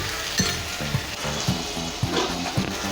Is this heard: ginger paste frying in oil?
yes